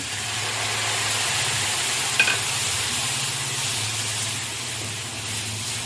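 About half a bowl of vinegar going into a hot pan for carrot pickle, producing a continuous close sizzle and bubbling hiss with a brief clink partway through, and no voices.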